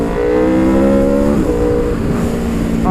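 A 2019 Aprilia RSV4 1100 Factory superbike with a heavily tuned 1100 Tuono engine and Euro 4 exhaust revs hard up close, its loud tone climbing, dipping and rising again with no talking.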